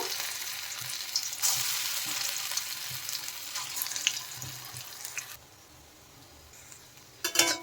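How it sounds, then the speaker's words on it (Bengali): Lentil pakoras fry in hot oil with a continuous close sizzle that drops to a quieter bubbling near the end before a brief burst of crackle returns. "আরও কিছু বড়া আমি ভেজে নেব"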